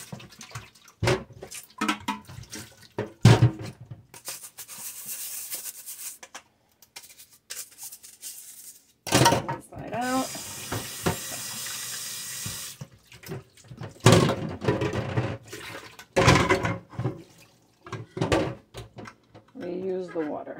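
Tap water runs in a sink while wine bottles are washed for home bottling, a steady splashing stream heard in several bursts with pauses of quiet between them; no speech is spoken over it.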